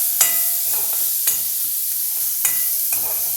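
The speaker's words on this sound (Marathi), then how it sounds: "थोडेसे शेंगदाणे मी घालते भाजके शेंगदाणे आपण याला थोडंसं हलवून घेऊया" Roasted peanuts being stirred into a puffed-rice snack mix in a pan, with three or four distinct scraping strokes at regular intervals over a steady, hissing background.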